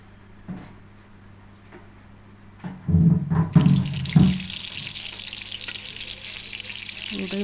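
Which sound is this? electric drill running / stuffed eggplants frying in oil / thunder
stuffed eggplants frying in oil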